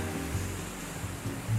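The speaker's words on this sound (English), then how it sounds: "look at the waterfall" A waterfall in Cherrapunji roars as a constant broadband rush of falling water, steady and full with no distinct splashes, no one speaking over it.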